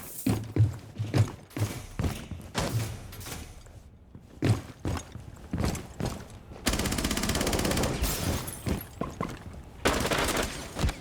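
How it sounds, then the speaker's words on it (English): Video-game gunfire rings out as a player shoots through a vending machine, with rapid single shots and short bursts close up. A long stretch of sustained automatic fire runs near the end. "He's trying to shoot him through the vending machine."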